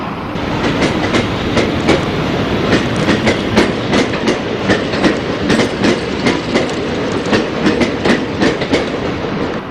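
A Class 44 diesel locomotive hauls a mixed train past at Werrington in 1978, rumbling steadily with a regular clickety-clack of wheels over rail joints, loud and close throughout, with no voices.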